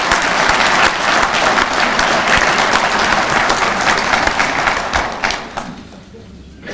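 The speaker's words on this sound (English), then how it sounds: "how about a nice round of applause?" Audience applause at an American Legion gathering, a thick burst of clapping that holds strong for several seconds and then fades out toward the end.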